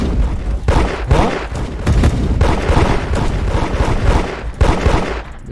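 Dense, loud video game gunfire crackles continuously in a hood-style shooter, with rapid overlapping shots and booming bursts filling the whole stretch and no pauses.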